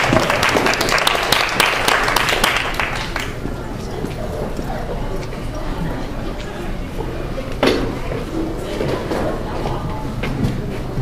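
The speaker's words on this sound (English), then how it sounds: "Round of applause, please." Applause breaks out at a university open-mic night, loud and dense for the first few seconds and then thinning to scattered claps and a murmur of chatter from the room.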